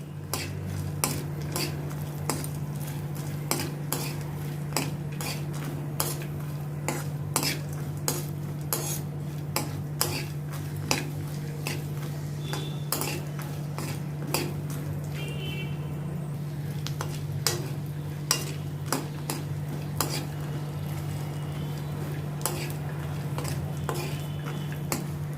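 Chana dal dry-roasting without oil in a pan, stirred with a spoon: steady scraping and clinking strokes against the metal repeat through the whole stretch over a constant low hum, with no one talking.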